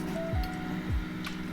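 A spoon stirs coconut milk into spiced fried-chicken marinade in a pot, giving two soft wet squelching sweeps close up over a low background hum.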